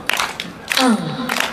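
Festival crowd outdoors in Ishinomaki claps along to a live song, with a few sharp hand claps ringing out amid crowd noise and a brief sung or shouted voice.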